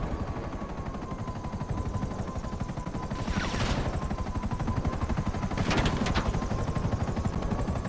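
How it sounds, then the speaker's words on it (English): Gunfire bursts and helicopter rotor noise in GTA 5 Online fill a dense, continuous game soundscape, with two louder bursts of shooting near the middle and end. "let's get rid of the stupid choppers"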